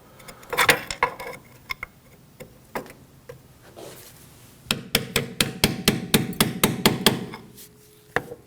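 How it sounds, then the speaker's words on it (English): Hammer taps on a brake hose bracket of a 2003-2006 Subaru Baja, sharp metallic knocks: a few scattered strikes, then a quick steady run of about a dozen close, crisp blows. "tap on it with a hammer and the flathead screwdriver from the back side"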